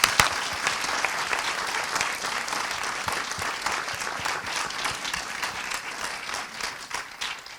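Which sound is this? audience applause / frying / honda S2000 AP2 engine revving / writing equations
audience applause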